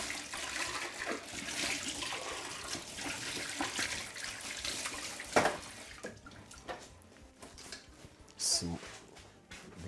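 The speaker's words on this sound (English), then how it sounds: "rinse out your container" Water from a tap runs into a blender container being rinsed out, a splashing rush that fades in and out beneath a talking voice, with a few sharp clunks.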